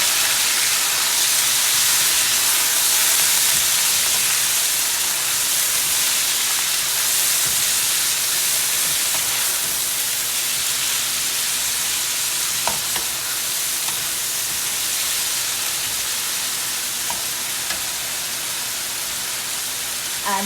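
Spices and chicken for a samosa filling are stirred around a hot pan, a continuous loud sizzling hiss with faint scrapes of the utensil now and then, close and unbroken.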